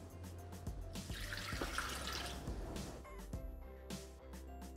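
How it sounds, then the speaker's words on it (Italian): Water pouring into a Thermomix mixing bowl for pesto focaccia dough, a close, steady splashing stream that runs for a few seconds and then tapers into softer trickles and drips. "Iniziamo la ricetta mettendo all'interno del boccale l'acqua,"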